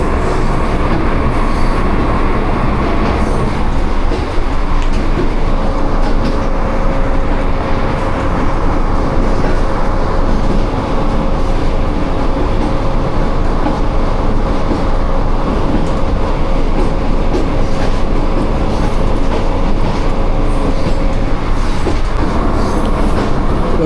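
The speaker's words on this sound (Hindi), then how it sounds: "फ़कीराबाद से पास हो रही है ट्रेन हमारी स्लो स्पीड में।" The Jaffar Express passenger train rolls along slowly between Attock and Rawalpindi on a rainy day, with a steady, loud rumble and rhythmic clatter of wheels on track, plus a faint thin squeal partway through.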